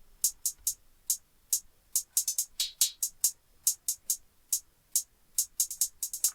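Crisp, ticking hi-hat pattern in an FL Studio trap-style beat, quick busy rhythm with uneven accents, some strokes stronger and some softer, fairly quiet and with no talking.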